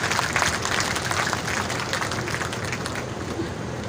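Audience clapping at an outdoor Hindi poetry recital during a festival kavi sammelan, a dense continuous patter of many hands heard from some distance, steady for the whole few seconds with a faint crowd murmur beneath.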